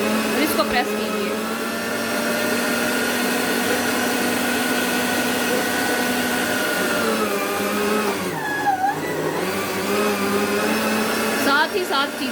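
A Yina electric meat grinder runs with a loud, steady motor whine that dips briefly in pitch as if under load, then recovers. A voice may be faintly present beneath the motor.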